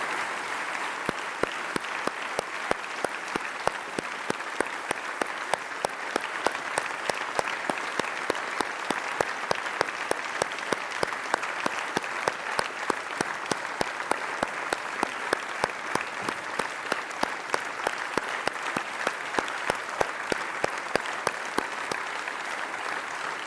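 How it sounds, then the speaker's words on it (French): A large audience in the French Senate applauds at length, a dense steady clapping that carries evenly and unbroken for over twenty seconds, with a faint murmur of voices beneath. "que nous nous levions à cet instant pour rendre hommage par nos applaudissements"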